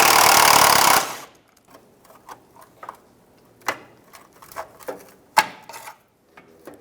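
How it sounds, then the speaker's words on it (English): Removing an 8mm bolt that holds the parking brake cable on a 2012-2020 Ford Focus: a loud burst of tool whirring at the start, followed by scattered faint metallic clicks and ticks close by. "Let's take off this 8mm bolt that holds the parking brake cable in place."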